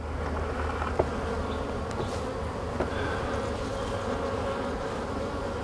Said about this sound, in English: There's just a handful of bees.